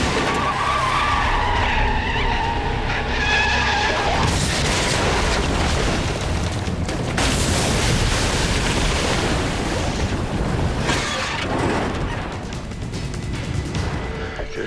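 Porsche skidding in a staged crash scene at about 60 miles an hour, a loud sustained screech and roar with bursts of impact-like noise, strongest around the middle and trailing into rumbling.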